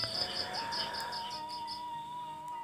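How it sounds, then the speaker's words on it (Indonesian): Crickets chirping at night in a faint, continuous trill, with a thin high tone running steadily and no voices. "Kiri kanan, cangkrik dan katak terdengar bagaikan alunan musik mengiringi langkah mereka"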